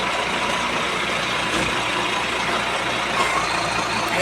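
A vehicle drives off with its engine running loud and rough, a steady heavy roar with broadband rumble that holds without a break.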